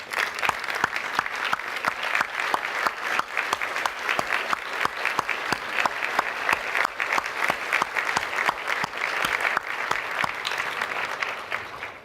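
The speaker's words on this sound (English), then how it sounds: "I truly ask every single full or part-time educator in this room to stand for a well-deserved applause." Large audience at a medical association annual meeting applauding educators, a dense, sustained wave of clapping filling the hall for about twelve seconds without talk.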